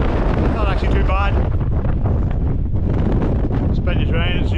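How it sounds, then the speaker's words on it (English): Strong gale wind on a Mourne Mountains hike roars and buffets the microphone continuously, loud and rumbling, with brief whistling gusts rising over the blustery noise. "Blowing a gale"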